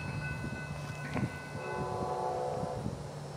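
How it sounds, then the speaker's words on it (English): Railroad rumble and steady mechanical drone from southbound freight train BLF724 as it rolls past on the line, with sustained tonal ringing and a brief louder clank, continuous and fairly close with no talking. "And this train will be BLF724 southbound."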